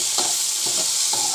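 Steady close hiss and sizzle of an egg frying in hot oil in a pan, with a few soft scraping stirs over the constant crackle.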